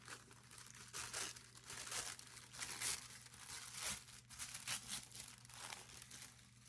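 A sheet of letter-size craft paper being handled up close, with continuous crinkling and rustling in uneven bursts, fairly soft and without talk.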